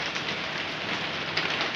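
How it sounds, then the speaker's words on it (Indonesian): Steady morning rain falls in a house yard, a dense continuous hiss of drops on surfaces, close and even throughout with no voices. "Ini hujan masih turun."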